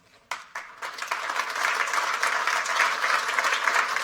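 A few isolated claps start it off, then a summit audience's applause swells into steady, dense clapping welcoming a panel, sustained to the end.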